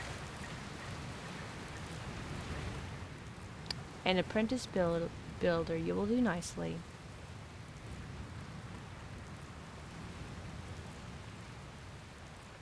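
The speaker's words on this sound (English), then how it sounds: "Oh, where'd this rain come from?" Steady broadband rain hiss from a storm in the video game Dragon Quest Builders 2, continuous and even throughout, with a character voice speaking briefly over it in the middle.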